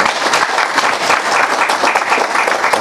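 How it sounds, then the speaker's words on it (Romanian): Steady, dense applause from an audience at a mayor's investiture session in Slănic Moldova, many hands clapping close and loud without pause for a few seconds. "Vă rog să-i aplaudați pe colegii mei de la PNL."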